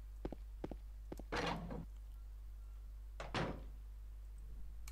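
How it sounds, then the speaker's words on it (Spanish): A locked door in the Silent Hill 2 video game is tried without success. A few sharp clicks come first, then two heavier rattling shakes of the handle, close and clear, with no talk. "No puedo abrir la puerta."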